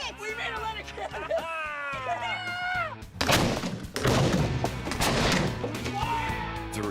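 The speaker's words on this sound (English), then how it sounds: "We made a leather cannon and it worked!" A homemade cannon built entirely of leather fires with one loud, sharp blast, followed by a rumbling tail; excited voices talk and shout before and after the shot.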